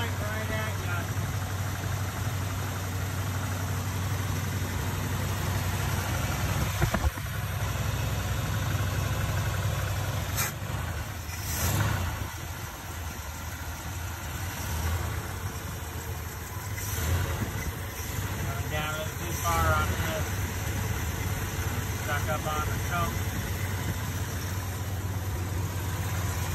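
A 1969 Ford F250 engine idles steadily through a carburetor adjustment with a bad fuel pump, a low continuous rumble with small surges, while someone talks intermittently over it.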